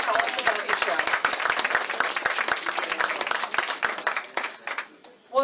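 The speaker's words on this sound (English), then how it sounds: "Please, a big round of applause." Audience applause at a statewide award presentation: dense, continuous clapping from a crowd, fairly close and steady, tapering off near the end with a few scattered claps.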